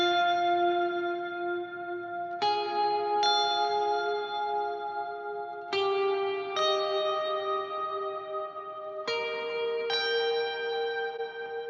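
Sustained bell-like synth notes ring out in sequence, each struck chord decaying into a long even reverb tail evened out by compression in a mix, clean and alone.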